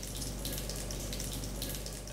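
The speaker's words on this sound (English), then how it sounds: "Surgeons scrub with the brown water straight out of the Luby River." Brown river water pouring steadily for surgeons' scrubbing at a rural clinic in Congo, a continuous close, loud splashing rush with no pauses.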